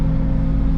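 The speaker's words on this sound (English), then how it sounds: "let me get a little throttle here" A Bobcat T62 skid steer engine held at throttle, steady loud low mechanical drone close by with no pause.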